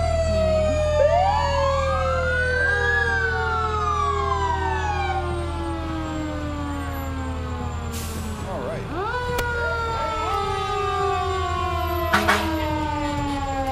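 Several loud fire engine sirens wail and sweep up and down in overlapping tones at a street parade, with a heavy engine rumbling underneath and a brief voice speaking.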